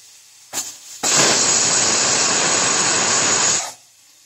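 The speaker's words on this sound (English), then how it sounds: "Waiting for the whistle" Whistle of a pressure cooker cooking brinjal biriyani, releasing steam in one loud, sustained, high hissing blast of about two and a half seconds that follows a short click.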